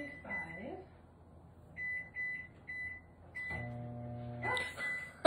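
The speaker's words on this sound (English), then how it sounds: "Kitchen timer, 35, start." A kitchen timer being set and started, giving a series of short, bright electronic beeps, several single chirps and then a longer sustained tone, heard close and alone.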